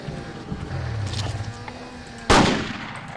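A single sharp, loud rifle shot rings out in the Alaskan Adventure hunt of Cabela's Big Game Hunter. Before it comes a low, steady background rumble with no other shots.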